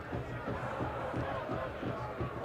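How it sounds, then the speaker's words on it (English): Crowd murmur at a Detroit City FC versus Sporting JAX football match, a steady dense buzz of many voices filling the stadium with faint chants rising and falling throughout. "The crowd is buzzing"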